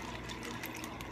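Water pours steadily into a plastic ice bag, a continuous splashing trickle that fills the short moment at low level with no talking.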